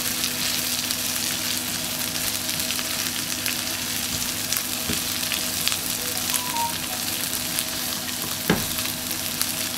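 Onion frying in a pan while cooking bacon-wrapped pork tenderloin, a steady dense sizzle with faint stirring scrapes and a short clink near the end, no talking.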